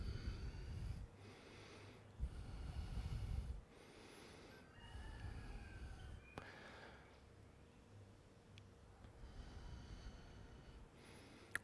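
Slow, deep breaths during a yoga session in Puerto Vallarta, a few long audible inhales and exhales heard close and quiet, separated by calm pauses.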